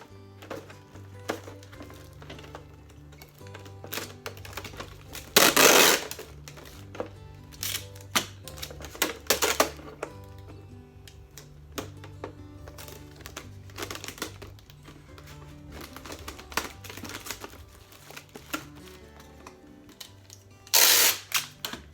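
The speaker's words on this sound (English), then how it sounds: "So I'm gonna tape up this container." Tape is pulled and wrapped around a plastic jug container, heard as close, intermittent ripping and crackling bursts with a few louder tearing pulls over quiet clicks and handling noises.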